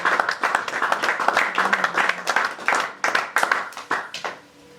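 A church congregation applauds during a Sunday service, with steady clapping from many hands for several seconds, fairly close, then trailing off near the end.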